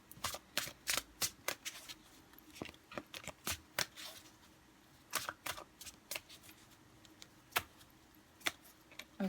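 Angel tarot cards being shuffled by hand in quick, crisp riffling bursts with short pauses between them, close and fairly quiet, with no talking.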